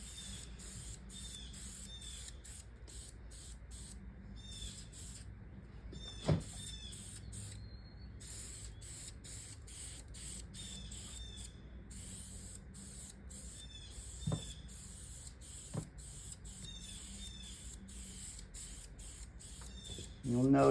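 A spray gun applies leather colorant onto car seats in bursts of airy hiss, repeating in short rhythmic pulses with brief gaps, fairly close, and a few soft knocks in between.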